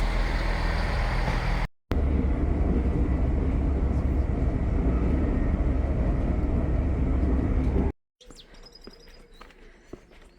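A loud, steady rumble and rattle of a moving train on a half-hour journey from Newcastle to Alnmouth fills the clip, cutting out briefly twice before a quieter, lighter ambience at the end.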